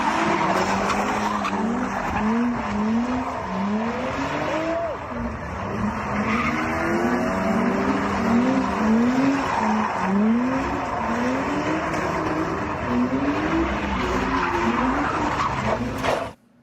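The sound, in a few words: car tires screeching doing burnouts on a street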